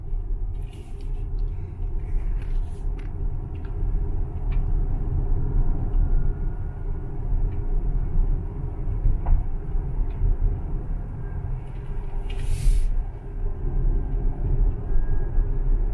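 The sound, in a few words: Tesla Model X 75D electric car driving, tire whine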